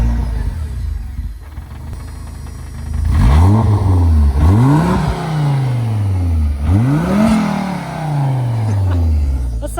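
A Porsche 944 with a swapped Audi five-cylinder engine, making double the factory horsepower, cranks and fires, then revs hard several times, each loud rising-and-falling blip close by, with a lumpy idle between.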